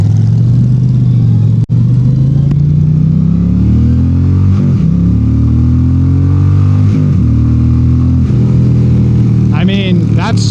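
An Indian Roadmaster PowerPlus Dark Horse bagger motorcycle revs and accelerates through several gears, deep loud engine pulls rising in pitch and dropping at shifts, with a rider talking over it.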